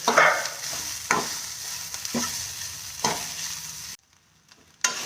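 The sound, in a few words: stirring and sautéing in a pan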